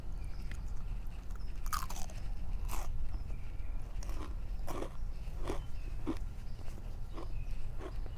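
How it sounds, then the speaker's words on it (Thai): Crisp bites and crunching on KFC Original fried chicken skin with sauce, close and intimate in an eating setting, with repeated sharp crunches spaced over a quiet steady background. "กินหนังกันกินหนังใส่ซอสเยอะ"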